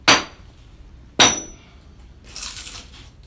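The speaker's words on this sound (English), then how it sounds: "With good deep notches cut into the log, I can then just split the waste off." An axe or hewing tool strikes a notched log to split off waste wood, giving two sharp, separate impacts about a second apart, followed by a softer crackling split.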